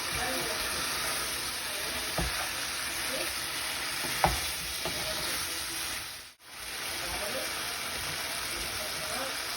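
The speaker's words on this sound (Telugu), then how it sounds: "ఆనియన్స్, కాజు పేస్ట్ ఇంకా గ్రీన్ చిల్లీస్ది యాడ్ చేసి ఒక 10 to 15 minutes మంచి లో ఫ్లేమ్లో చికెన్ టెండర్ అవ్వడానికి కవర్ చేసి వేయించాలి" Chicken with onions, cashew paste and green chillies fries on a low flame, giving a steady soft sizzle with occasional stirring knocks and a brief dip partway through.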